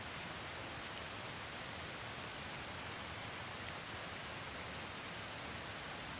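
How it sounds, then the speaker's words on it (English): Steady, dense rain in a jungle area of a video game hisses without a break, loud and even throughout, with no talking over it. "Rainy out here."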